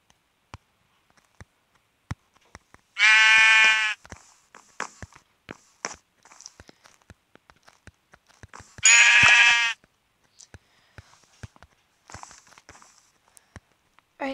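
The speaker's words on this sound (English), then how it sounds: "There's a sheep!" Sheep in the Minecraft video game bleat twice, loud and close, between a steady run of soft, crisp footstep clicks.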